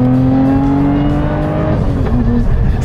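Lotus Emira with its engine mounted behind the seats, roaring steadily while driving, a loud close hum that holds pitch then dips slightly as the car eases off, with no talk over it.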